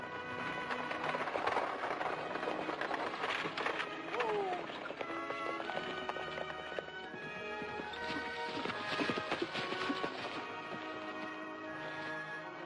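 A team of horses pulling a stagecoach clip-clops along, with hooves beating steadily and fairly close, and a brief whinny mixed in over background clatter.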